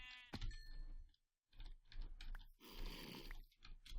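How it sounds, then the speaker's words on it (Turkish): Several short sheep bleats from modded Minecraft mixed with clicky keyboard typing, coming in bursts separated by brief pauses. "Şuradaki koyunları da halledelim"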